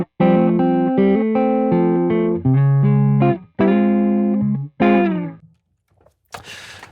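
Clean, unaffected electric guitar played through a Nystrom Cathedral pedal into a Benson Monarch Reverb amp: a string of sustained chords and single notes in separate phrases, each ringing then cut off, with a short scratchy strum at the end.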